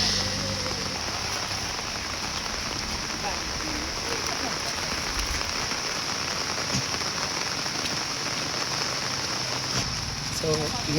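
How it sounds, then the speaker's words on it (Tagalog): Heavy rain pours down around a house, a dense, continuous hiss of drops on surfaces with no letup, loud and close, with faint voices now and then beneath it. "magkuha lang sila karon kay ulan man nga kusog karon"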